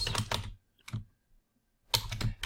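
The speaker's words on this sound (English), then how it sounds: "make sure that you are typing this correctly" Keystrokes on a computer keyboard come in two short bursts of rapid typing, with a lone keypress between them and quiet gaps in between, close and fairly soft.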